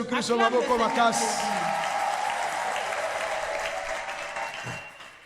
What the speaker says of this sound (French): Acclame le Seigneur Jésus